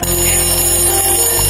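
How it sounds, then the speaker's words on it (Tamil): An alarm clock rings loudly and continuously, a steady bright electronic tone with a constant buzzing hum underneath, heard alone and close. "அப்போதான் அடிச்சது இந்த அலாரம்."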